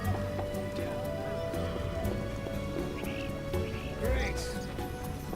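Rain pattering steadily in The Witcher as a broad hiss beneath other in-game sounds, with a brief louder clatter near the end and speech-like game audio mixed in.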